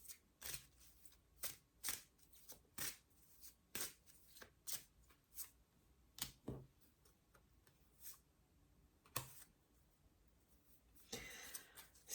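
Tarot cards being shuffled and handled by a reader, a series of soft, close riffling and snapping bursts with short pauses between, ending in a longer rustle.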